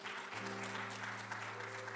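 A church congregation claps warmly after a testimony during a Sunday service, dense applause running steadily while a low sustained organ or keyboard tone hums underneath.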